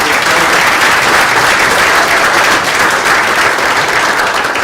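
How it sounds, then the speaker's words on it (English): A large audience at a university executive ethics symposium gives a loud, continuous round of applause for staff, a dense even wash of clapping held throughout. "Round of applause to both of our staff"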